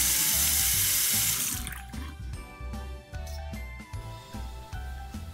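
Water runs from a Price Pfister faucet after the cartridge is replaced, a steady broadband rush for about the first two seconds that then thins to irregular splashing and dripping.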